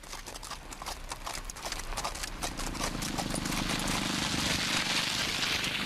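Horse hooves clip-clop steadily along a road in rural Uruguay, a brisk, even rhythm of hoofbeats that carries on throughout at moderate loudness, with a wash of background noise rising partway through.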